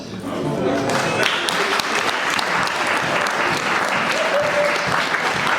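A congregation in a church service claps in a dense, sustained burst of applause, loud and close, with voices mixed into the crowd noise.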